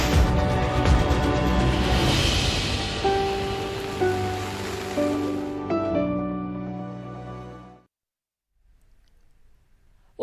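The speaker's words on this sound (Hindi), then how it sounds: "बारिश काफी तेज हो रही है कल से।" Heavy monsoon-season rain pours down steadily and loudly across flooded ground, a dense wash of noise that fades out near the end, leaving quiet.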